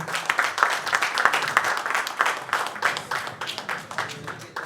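Audience applause at a music label's artist unveiling event in Nigeria, individual claps clearly separated in an uneven, pulsing rhythm from a modest crowd, close and fairly crisp.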